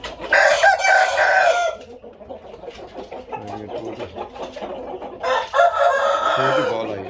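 Chickens and game roosters at a breeder's stable, loud nearby crowing at the start and again near the end, with softer clucking and fowl chatter in between.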